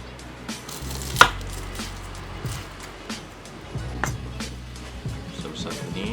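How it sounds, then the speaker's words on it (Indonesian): A knife chops two garlic cloves on a board while cooking freshly caught grouper, several sharp irregular knocks, close, with a low motor-like hum beneath. "Dua siung dipotong begitu."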